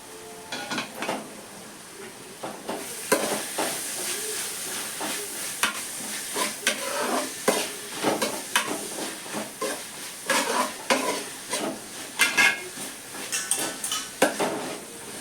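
Onions frying in a pan for chicken curry are stirred with a utensil, producing repeated close scrapes and clinks against the pan over a continuous sizzle, uneven in rhythm and fairly loud, with no voices.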